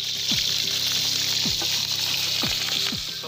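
Pork ribs frying in a kazan give a steady, even sizzle of hot fat throughout, with a few soft scrapes and stirring knocks underneath.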